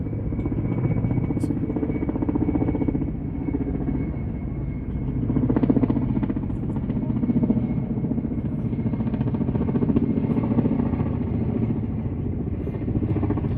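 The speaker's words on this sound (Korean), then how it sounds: "근데 배경음이 헬기 날아가는 소리." A steady low rotor drone rumbles throughout, with the faint thump of a helicopter passing at a distance over Seoraksan near Towangseong Falls, Sokcho, and no one speaks.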